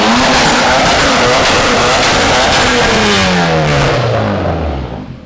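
A BMW E36 with a swapped VW 1.8T engine revs loudly up and down at close range, a steady roaring engine tone with pitch sweeps, tire noise underneath, fading slightly at the end.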